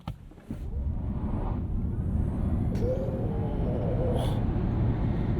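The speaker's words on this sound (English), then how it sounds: "You heard the front wheels grabbing for traction there." A 2023 Genesis GV60 electric SUV in boost mode launching hard from standstill to 60 mph, a low, steady rumble of road and drivetrain noise with faint tire chirps as the front wheels scrabble for grip.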